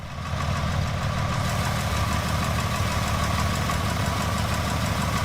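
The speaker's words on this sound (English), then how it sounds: "these guys really did a good job with the motor sounds" Car engine idling in a driving video game, a steady, loud, continuous mid-pitched rumble with a fine knocking texture, close and unbroken, with no talking.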